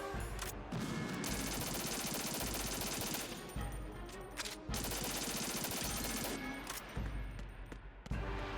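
Rapid automatic gunfire in Metal Gear Solid 2 as a gun is emptied, dense loud bursts of shots running several seconds each, broken by short pauses, with no talk.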